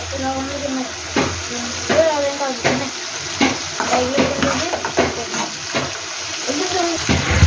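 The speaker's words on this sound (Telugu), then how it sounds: "చికెన్ నూనెలో బాగా మగ్గుతూ ఉండాలి ఫ్రెండ్స్." Chicken fries in oil for curry, a steady close sizzle punctuated by repeated scraping stirs of a spoon in the pan, with bits of talk over it.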